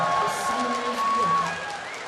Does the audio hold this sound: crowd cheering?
yes